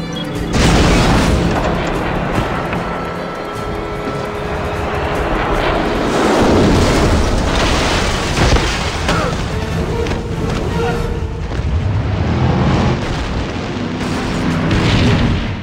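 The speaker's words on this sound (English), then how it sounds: "Helicopter is down." A helicopter crashes and explodes in the video game James Bond 007: Blood Stone, a loud roaring engine drone broken by heavy booming blasts and rumbling debris, sustained and close for the whole stretch.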